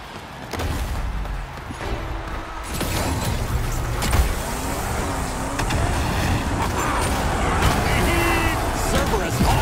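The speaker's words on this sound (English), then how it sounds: "The hero vehicle is ready to ride!" The hero vehicle's engine in Destruction AllStars on PS5 drones and revs steadily through a chaotic arena match, loud and continuous, with an announcer's voice calling over it.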